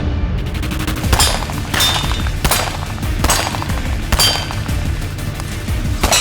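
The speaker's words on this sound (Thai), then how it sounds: "เริ่มพิชิตภารกิจแรกด้วยปืนสั้น กับเป้าหมายทั้ง 5เล็งปืนให้ตรง" Handgun shots fired one after another at five targets on a shooting range: sharp, loud cracks at roughly even intervals over a low background rumble, with no voices.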